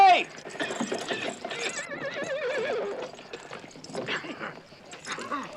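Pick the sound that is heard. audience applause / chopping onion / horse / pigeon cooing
horse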